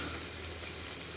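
Ginger, garlic, green chili and capsicum sizzle in a pan, a steady soft frying hiss with no voice over it, for a short stretch.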